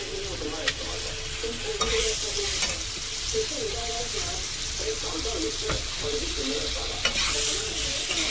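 Tomato and green chillies sizzle in a pan of hot oil, a continuous frying hiss broken by a few soft clicks and scrapes from stirring.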